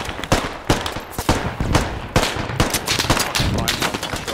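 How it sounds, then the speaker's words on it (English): Sustained machine gun fire from a bunker in the tactical shooter Squad, with dense, rapid bursts of loud, close shots rolling on without pause and crackling impacts mixed in. "No, my guys, suppress the fucking machine gun."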